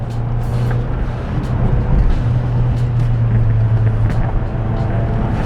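A 2017 Ford Focus RS engine drones steadily from inside the car while driving, a loud constant low hum with road noise throughout and no talking.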